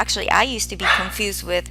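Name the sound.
dog barking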